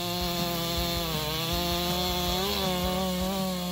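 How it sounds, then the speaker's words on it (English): Husqvarna 395 XP chainsaw with a 94cc engine cutting through a tree trunk, a loud, steady high-revving whine with slight pitch dips as the chain bites into the wood, close and continuous with no voices. "The Husqvarna 395 XP is a true lumber giant in the chainsaw world."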